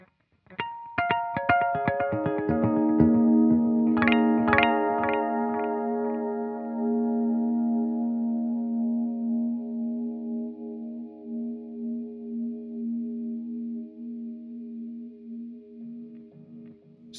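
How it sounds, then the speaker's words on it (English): A few plucked guitar notes repeat as tape-style echoes from an Echoplex, the repeats piling into a long, haunting sustained wash that slowly fades. "So you start to get sort of the haunting, echoey thing happening."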